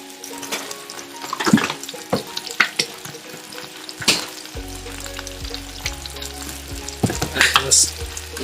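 Pot of spicy fried chicken with rice and peas bubbling and sizzling on the stove, with light stirring clatter and a low hum, close and moderate.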